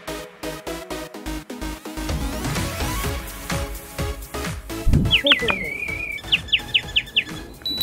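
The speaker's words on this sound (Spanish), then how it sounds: "Lo está haciendo como que si fuera el sonido de un pajarito." A baked clay whistle, fired in an oven, trills and chirps in short bird-like bursts at a craft stall, preceded by clattering and background voices, then a rapid run of bright repeated peeps.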